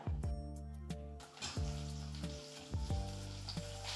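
Onion and tomato sizzle steadily in hot oil for a mutton dalcha, with a continuous frying hiss broken by a few soft stirring knocks against the pan.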